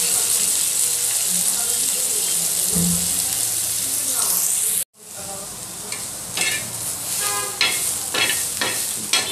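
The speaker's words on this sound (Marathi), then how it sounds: "थोडंसं तेल टाकूया कांदा परताना।" Onion sautéing in a little oil for egg curry, a steady sizzle with scraping stirs, briefly cut off, then resuming softer with clinks of a utensil against the pan.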